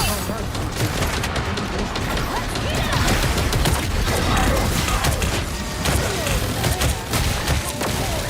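Dense, continuous gunfire and thumping blasts in a shooter video game, loud and close throughout, with a player's voice faintly mixed in at times.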